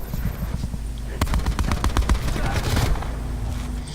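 Rapid automatic gunfire in a video game rattles in a dense burst that lasts about two seconds as shots punch through a wall. Quieter game ambience comes before and after the burst.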